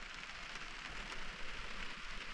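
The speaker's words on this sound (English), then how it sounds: "Oh, you can hear the sound of the rain on the roof." Rain falls on the roof of a truck camper on a chilly fall night, a soft, steady patter and hiss of drops heard from inside, faint and continuous without talking.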